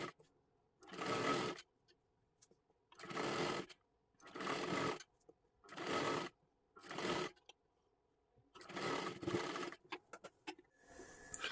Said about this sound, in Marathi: आता असंच आपल्याला हे शिलाई करत करत घ्यायचं आहे.